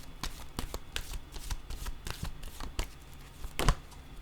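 Tarot cards shuffled by hand in a run of quick riffling bursts and soft slaps, close and clear, ending in a sharper snap, with no speech.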